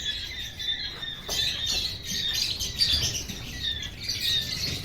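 Pet birds squawk and chirp in their new sunny, well-ventilated room: a steady chorus of shrill calls that overlap continuously at moderate volume, with no talking.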